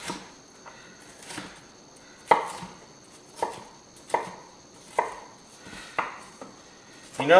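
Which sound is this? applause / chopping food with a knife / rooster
chopping food with a knife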